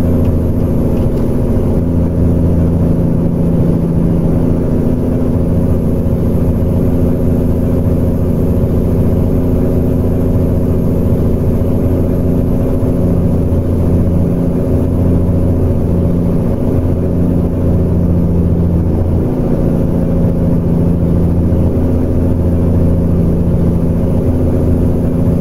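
Steady, loud drone of a Peterbilt-style 389 truck engine with a modded engine sound in American Truck Simulator, a deep rumbling idle-to-cruise hum holding constant throughout with slight fluctuations and no voices.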